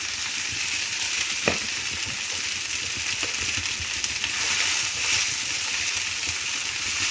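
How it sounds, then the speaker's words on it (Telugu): Coriander leaves frying in a pan over low heat for pickle, giving a steady, even sizzle with a couple of soft stirring clicks throughout. "కొత్తిమీరను ఫ్రై చేసుకుందాం. అంతా సిమ్లోనే ఉండాలి."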